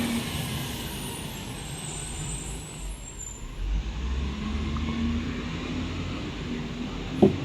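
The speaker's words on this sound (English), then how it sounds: "a truck going past" A truck rolls past outside, a steady low engine rumble that swells midway and stays in the background, with a faint brief brake hiss near the end; no one speaks.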